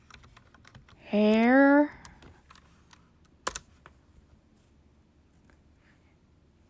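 Sparse, faint keystrokes tap on a computer keyboard in a quiet room, with a single spoken word early on and one sharper click a little later.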